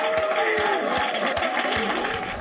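Applause and cheering erupt at NASA mission control after the Perseverance rover touches down on Mars, a dense, steady roar of many hands clapping that fills the room from start to finish, with a few voices mixed in.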